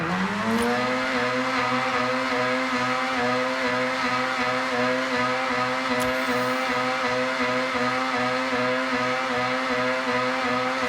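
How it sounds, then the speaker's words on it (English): A car in the Forza Horizon racing game holds a high, steady engine roar at speed through a long drift, loud and continuous, with a faint tire squeal riding under the engine drone. "You want to build up as much speed as you can and just throw it into a drift."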